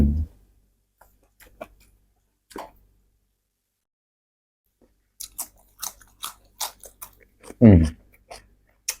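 Crisp crunchy food, a Thai dish of crispy fluffy fried dried catfish alongside gotu kola leaves, is chewed and bitten in a series of short crunches with scattered quiet gaps and brief speech.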